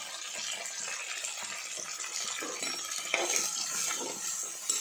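Crushed shallots, curry leaves, tomato and garlic sizzle and crackle in hot oil with fenugreek, a steady close frying hiss with faint utensil scrapes throughout.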